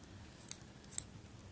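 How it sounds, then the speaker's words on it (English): Two quick, faint snips of small scissors cutting through yarn loops on a little pom-pom, spaced about half a second apart in a quiet room. "just snip all these loops open"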